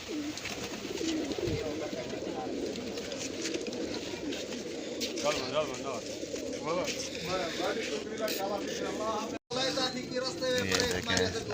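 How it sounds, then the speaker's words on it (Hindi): Pigeons coo softly while pecking at scattered grain in a village, their low calls faint beneath a person talking over steady outdoor background noise. "ये देखें अब दाना खा रहे हैं। प्यारे प्यारे कबूतर हैं।"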